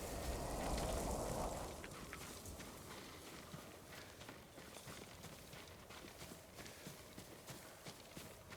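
Horse hooves clip-clopping in Ghost of Tsushima, a quiet uneven patter of steps over a soft rain-like hiss, starting with a louder rustling burst before settling into faint scattered hoofbeats.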